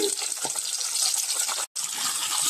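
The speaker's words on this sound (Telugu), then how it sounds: "ఇదిగో ఇలా టమాటాలు కూడా వేసేసాను" Chopped tomatoes tipped into a pan of onions for Indian-style tomato chutney, giving a steady wet hissing, splashing rush across the whole stretch with one brief cut in the middle and no talk.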